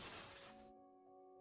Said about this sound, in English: all of you basically hear what seems to be a loud crash. As right through what seems to be the skylight glass ceiling.